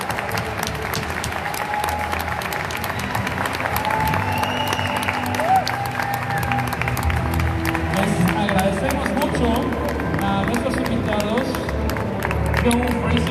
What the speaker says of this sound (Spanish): toca cerrar con una ronda de aplausos también para nuestros invitados